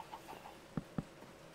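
Chickens in the Minecraft video game give a few soft, short clucks, with two louder pecking-like pops close together midway, all fairly faint over a quiet game background.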